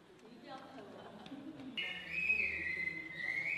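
Pan flute played to mimic birdsong during a rest break after a long ensemble rehearsal, giving sustained bright whistling warbles, loud and close, entering partway through over background chatter and room noise.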